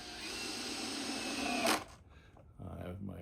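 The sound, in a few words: power screwdriver driving screws into wooden beehive super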